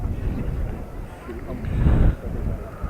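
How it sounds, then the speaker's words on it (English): Wind buffets and rumbles across the microphone at a baseball game in Lake Placid, a steady low roar that swells briefly near the end. "Ooh, the wind here."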